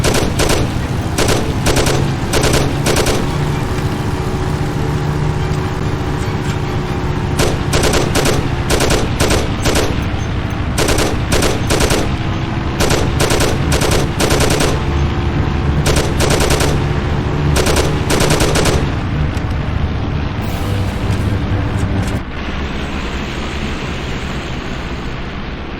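Sustained automatic gunfire in the crime shooter game Mafia Remastered, loud and continuous in rapid bursts and volleys over an engine-like rumble, with only brief lulls throughout.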